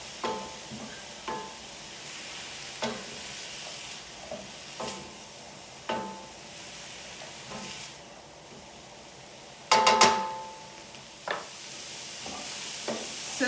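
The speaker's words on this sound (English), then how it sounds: "So I'm just going to let this saute a while." Carrots, onions and celery sautéing in a pan, a steady quiet sizzle broken by periodic scraping stirs and one louder clattering stir near the end, with no talking.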